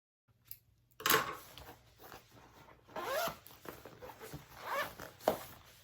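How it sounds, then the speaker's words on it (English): Zippers on a Waterlily tote bag are pulled open one after another, quick close raspy zips in short bursts with light handling clatter between them. "open all of your zippers"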